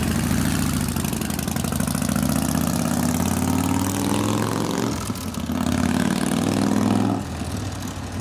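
A Harley shovelhead stroker big-bore motor on a new FL build runs with a steady lumpy rumble, dips briefly, then revs up again under throttle before easing off.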